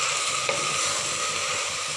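Okra (ladyfinger) frying in a pan and being stirred, a continuous close sizzle with a brief scrape of the spoon partway through.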